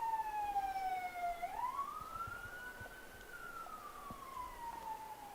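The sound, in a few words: sirens sounding at a netball game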